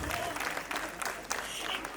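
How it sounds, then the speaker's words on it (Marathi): Audience applause at a Marathi stage performance, a steady wash of clapping from the crowd lasting about two seconds, moderately loud with some voices mixed in. "वाजूया ना टाळ्या."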